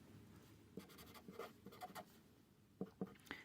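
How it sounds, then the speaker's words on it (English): A pen drawing the Hebrew letter mem on paper, several short scratchy strokes that come in bursts, with a quick cluster of them near the end. The strokes are close and quiet, and no one speaks. "I'll attempt to draw a mem for you guys"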